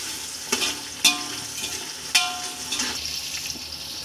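Sliced onions and green chilies sizzle in hot oil for chicken biryani, a steady frying hiss broken by several sharp scraping clanks of a spoon stirring the pan.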